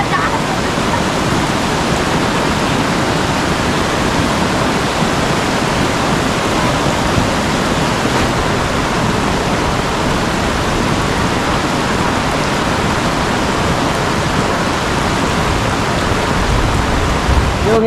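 Heavy rain pours down beside a flooded creek swollen past crossing, a loud, steady broadband roar of rain and rushing water that holds unbroken from start to finish.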